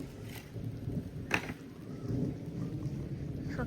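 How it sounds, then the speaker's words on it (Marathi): Light, fine rain falls in a Konkan village, a soft steady patter with a low rumbling wash underneath, faint and continuous with no voices. "सो गाईज पाऊस पडतोय. खूप नाही पडत आहे. बारीक पडतोय."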